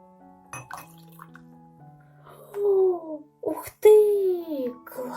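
Vinegar pours from small cups into a colored baking-soda volcano experiment, making gurgling fills with a rising pitch and a few splashy bursts, while a voice talks in between.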